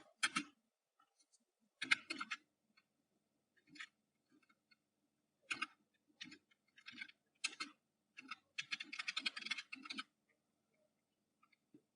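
Someone types a paragraph on a computer keyboard, producing faint, close clicks in short irregular bursts with pauses between them. The flurry near the end is denser.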